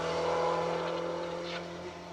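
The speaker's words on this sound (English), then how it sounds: "You just heard the car kind of almost groaning under the weight loading as it went around that junction up the hill" A BMW Compact rally car strains uphill through a junction on a special stage of the 2023 Manx Rally. The engine drones loud and steady, then eases slightly toward the end.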